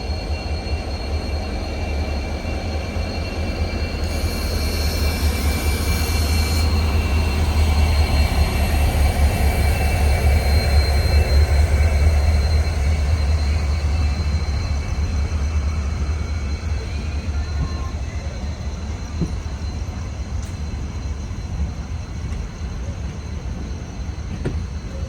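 The Kanchanjangha Express, with a WDP4 banker diesel locomotive, stands at Sealdah station, a steady heavy low rumble of idling engine and rail noise that continues through the whole stretch, with a brief higher hiss early on.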